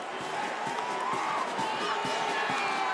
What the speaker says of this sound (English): But for Kellen Mond, communication and concentration are going to be an issue with this crowd